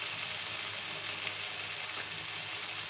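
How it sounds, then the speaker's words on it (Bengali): Onions, green chilli, tomato and pangas fish belly pieces fry in hot oil with turmeric and salt, giving a steady, dense sizzle that stays even and close throughout. "তেলের মধ্যে পেঁয়াজ দিয়েছি, হলুদ আর লবণ দিয়ে আমি ভেজে নিয়েছি।"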